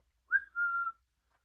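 A single short whistle from a person, rising briefly then holding a steady tone, clear and close against silence.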